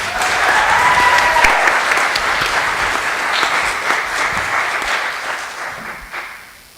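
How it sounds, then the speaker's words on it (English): Sustained audience applause for a jazz soloist at a jazz clinic performance, a dense wash of clapping that holds steady for several seconds, then thins and fades out near the end. "Let's give our soloist another round of applause."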